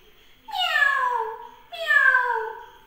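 Children imitate a cat's meow: two drawn-out, falling meows, loud and close, one after another with a short gap and no other sound.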